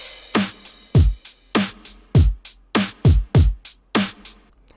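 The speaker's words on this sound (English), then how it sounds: "We have a very simple kick, snare, and hi-hat pattern that pretty much repeats over and over again" Big, stompy electronic drum pattern with heavy booming kicks, sharp snares and hi-hats repeating in a steady groove, loud and punchy with no voices.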